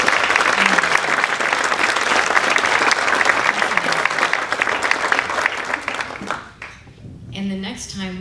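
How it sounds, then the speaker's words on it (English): Guests at a spring brunch fundraiser applaud loudly and steadily for several seconds before the clapping thins out and a speaking voice returns. "give yourselves a round of applause"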